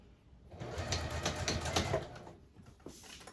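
A sewing machine back stitching a seam on a zippered tote bag, a quiet rapid whirring burst of stitches for about two seconds that then stops.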